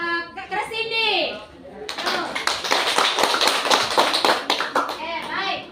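A classroom of children clap together in the rhythmic 'tepuk terima kasih' pattern, a dense burst of hand claps from about the two-second mark onward, preceded by a voice talking.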